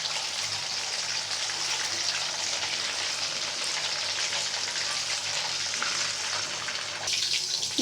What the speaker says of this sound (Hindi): अब हम इसे करेंगे डीप फ्राई